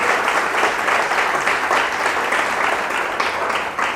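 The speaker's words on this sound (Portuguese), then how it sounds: "Aplauda Jesus Cristo, Ele é o teu Senhor." A church congregation applauds, steady dense clapping from a crowd filling the room, loud and continuous without pause.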